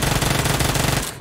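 Rapid automatic gunfire aimed at a bot in the video game PUBG Mobile, a loud continuous burst of fast shots for about a second before cutting off.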